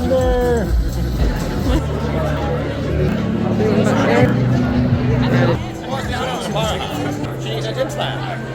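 A large crowd murmurs and chatters at the Microsoft Excel World Championships, a steady hubbub of many voices with a few louder voices standing out, continuous throughout.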